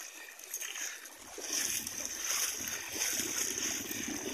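A pump boat moves on clear sea water near an island, its motor a faint steady hum with water splashing and swishing in a low rumble that rises after the first second, while voices talk faintly.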